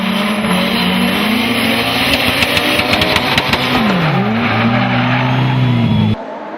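A drift car on a competition run roars close and loud through a sudden-death battle, engine pitch rising and dipping while tyres squeal continuously in a sustained howl before the sound drops away at the end.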